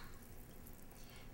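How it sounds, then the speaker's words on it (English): Water poured from a golden mushroom soup can into a crock pot, a steady continuous trickle and splash heard close up on its own, lasting the whole short moment without talk. "from the golden mushroom soup, the can, add half a cup of water"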